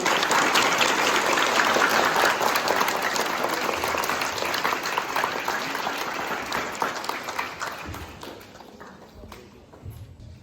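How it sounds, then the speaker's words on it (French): Students applaud the French Consul General at a school in Beirut, a dense, steady burst of clapping that stays strong and gradually thins and fades toward the end. "je vous demande d'applaudir chaleureusement M. Anglard pour sa présence fraternelle parmi nous"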